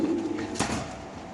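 Maxi racer pigeons kept in numbered cages at a pigeon sale give a short, low coo near the start, followed by a faint rustle, close and quiet with no speech.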